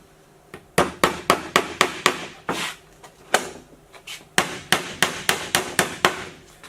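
Hammer driving brass nails into a wooden luxury trunk, a loud, close series of sharp regular strikes in quick bursts with brief pauses between runs.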